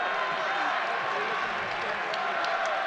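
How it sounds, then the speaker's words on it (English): Basketball arena crowd at a tied Dayton men's college game, a broad steady murmur of anxious spectators filling the hall, with a commentator talking over it. "Crowd getting a little anxious right now."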